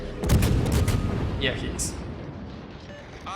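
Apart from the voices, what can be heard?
naval gunfire in World of Warships video game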